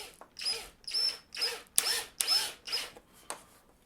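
A power drill drives a screw into an acoustic panel in a recording studio, with about seven short whirring bursts in a steady on-off rhythm, close and clear with no talking.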